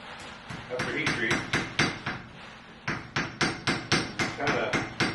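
A hammer peens a brass pin into a stag-handled knife, mushrooming the pin over a chamfered hole with a rapid series of sharp, close metallic taps, about a dozen in even rhythm.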